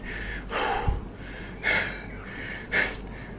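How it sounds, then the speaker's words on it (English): Heavy, gasping breaths after a set of pushups, three loud sharp inhales or exhales spaced about a second apart, close to the microphone with no talk. "Let me catch my breath for a second, sorry."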